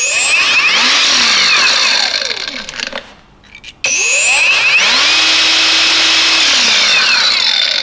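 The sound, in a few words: knock-off Makita 18v brushless battery angle grinder spinning up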